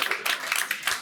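An audience claps for the Oldie and Private Eye at a celebration of cartoonist Ed McLachlan, a short burst of close, uneven hand claps.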